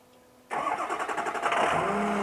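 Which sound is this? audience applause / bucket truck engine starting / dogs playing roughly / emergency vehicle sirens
bucket truck engine starting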